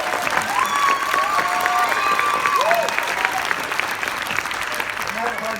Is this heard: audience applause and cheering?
yes